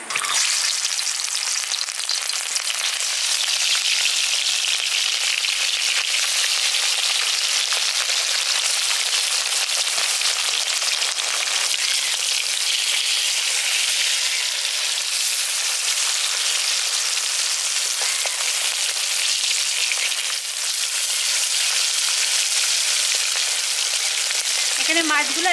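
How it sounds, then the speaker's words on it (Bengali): Rohu fish pieces fry in hot oil in a village kitchen, a loud, steady crackling sizzle that runs unbroken and close, with no voices. "তেলটা ভালো মতো গরম করে নিয়েছি। এবার মাছগুলো একটা একটা করে দিয়ে দিচ্ছি।"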